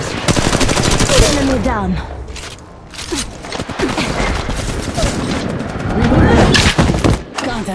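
Rapid automatic gunfire in Apex Legends mobile, loud bursts of shots with thuds, under a game voice calling out and continuing through most of the stretch.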